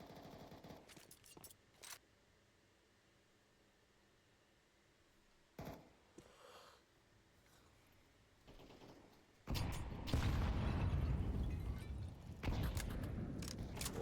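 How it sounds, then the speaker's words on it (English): Grenade blasts and gunfire in a competitive team shooter match, with scattered shots early, then a loud sustained burst of explosive noise and firing in the last few seconds. "Blake takes some nade damage."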